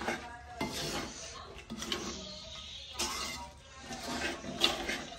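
A pot of beef curry being stirred and mixed in a home kitchen, with a spoon scraping and clinking against the pot in repeated strokes. Soft background clatter and light sizzling sit underneath, and no one talks.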